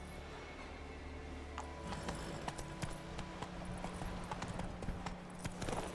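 Geralt's horse Roach in The Witcher 3 moving at a quick pace, with steady rhythmic hoof clops close by, joined by faint creaks of tack and gear, over a low continuous rumble.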